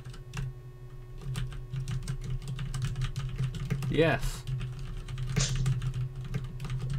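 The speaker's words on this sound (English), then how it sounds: "I'm just typing in the title of this stream again" A computer keyboard is typed on with rapid, irregular clicks close by over a steady low background hum, and a person speaks briefly in the middle.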